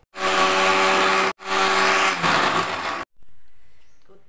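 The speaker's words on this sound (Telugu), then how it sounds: "కొద్దిగా వాటర్ వేసుకొని మిక్సీ పట్టాలి" A mixer grinder blends coriander leaves with water, close and loud in two whirring bursts separated by a brief pause, then cuts off. A shorter, quieter whir follows at the end.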